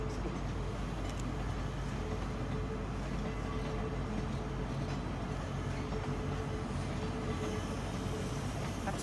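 East Coast Main Line train pulling away from London Kings Cross, a steady loud rumble of engine and wheels that fills the clip, with voices talking faintly underneath.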